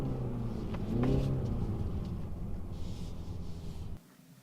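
A 2019 BMW 330 engine hums and rises briefly in pitch as it accelerates while driving, then cuts off abruptly near the end.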